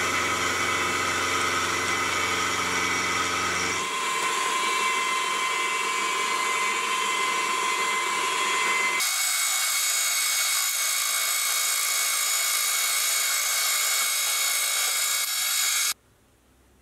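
Milling machine cutting metal V-blocks clamped in a large vise, a loud continuous high whine from the spindle and cutter that shifts pitch twice before stopping abruptly near the end.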